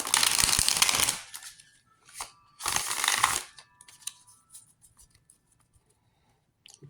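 Tarot cards are riffled in two quick shuffling bursts, crisp and close, followed by soft taps and light handling noises fading into quiet.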